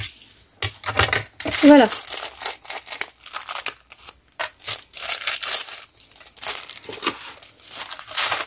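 Paper for a junk journal is cut and handled with crinkling, snipping and rustling sounds in irregular close bursts, while a voice speaks briefly.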